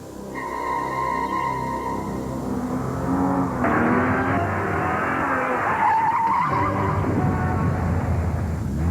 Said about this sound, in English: Continental Tires in a torture test